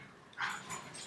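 Two dogs wrestling in play let out a brief yip-like bark and whimpering sounds, moderately close and fairly quiet, with no talking over them.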